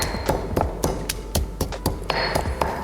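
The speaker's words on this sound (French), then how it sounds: "Et vous pouvez écraser finement avec le piment." Garlic and chili being pounded finely in a mortar, about a dozen sharp pestle strikes in a quick, slightly uneven rhythm, each giving a close, ringing tap with a dull thud beneath, and no talking.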